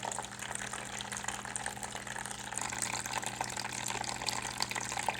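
Water from a small liquid pump runs down through a stream diorama and falls into a pond, making a steady, continuous trickling and splashing with a constant low pump hum underneath and no talk.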